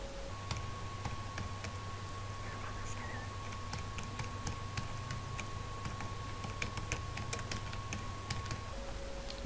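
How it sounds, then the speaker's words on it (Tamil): Quiet typing on a computer keyboard, a run of soft irregular key clicks under a low steady hum, with no talk. "நான் இப்போ அந்த ட்ரைனிங் சென்டர் பேரை கேபிட்டல் லெட்டர்ஸில் டைப் பண்ணுறேன்."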